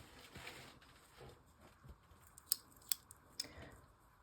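Scissors snip thread during tatting work for handmade earrings: three faint, crisp cuts land a half-second or so apart against a quiet, lightly rustling background.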